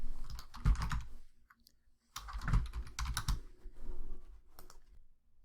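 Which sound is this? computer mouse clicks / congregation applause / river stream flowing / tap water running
computer mouse clicks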